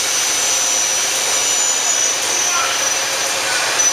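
A Daewoo Puma 200C CNC turning center spindle gives off a steady, high-pitched mechanical whine over a broad hiss, constant and close throughout.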